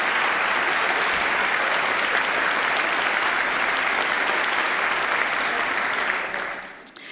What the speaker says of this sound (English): Could we have a round of applause for all of our elected officials here today?